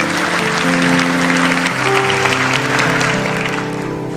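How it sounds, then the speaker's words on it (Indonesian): Church congregation applauding during a sermon, a steady wash of clapping with a sustained musical tone humming underneath, fading slightly toward the end. "Kasih tepuk tangan tuh Tuhan."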